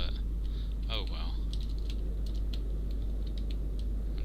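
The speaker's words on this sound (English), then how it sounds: "I'm just here mashing the WASD keys." Rapid clicking of WASD keys on a computer keyboard while playing Kerbal Space Program, a steady patter of light taps under a constant low hum, with a brief faint whistling sweep early on.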